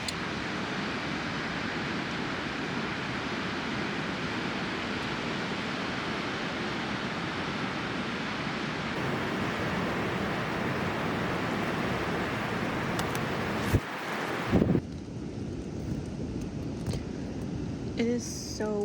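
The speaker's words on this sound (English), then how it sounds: "It is so windy tonight." Steady, roaring broadband rush of strong wind at night at a campsite in the Boundary Waters, loud and continuous, with a brief thump and a slight drop in intensity near the end.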